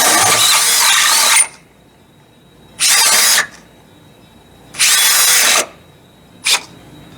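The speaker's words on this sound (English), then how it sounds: "I'm gonna drill both of them holes out a little bit larger" A cordless power drill enlarges two bolt holes during shift kit work on a 1965 Chevrolet C10 pickup, running in four loud bursts of about a second or less with short quiet pauses between.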